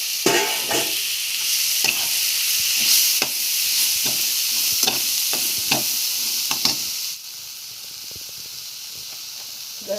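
Moth beans and salted onion frying in a pan, a steady loud sizzle broken by repeated scraping strokes as they are stirred, the hiss easing slightly near the end.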